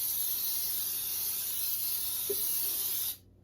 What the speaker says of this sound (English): Then you spray your pan.